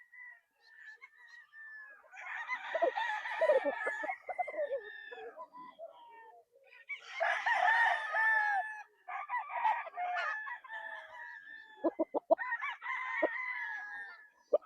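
Gamefowl roosters at a game farm crow repeatedly in long, rising calls with clucking between, moderately distant, with a few sharp knocks near the end.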